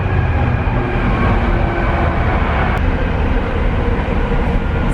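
A train rumbles past as a loud, continuous low roar with broadband rushing noise that holds steady throughout, close by and without any voices.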